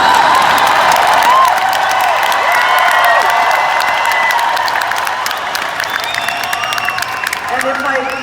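Concert crowd at a show in Toronto applauding and cheering loudly, sustained clapping mixed with whoops and shouts from a large audience.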